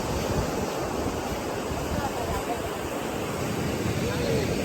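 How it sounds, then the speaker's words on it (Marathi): Steady roar of surf with a constant wash of large, high breaking waves and wind noise, loud and continuous throughout, at Devbagh beach on India's Konkan coast. "मस्त लाटा येतात लाटांची रेंज खूप मोठी उंच आहे"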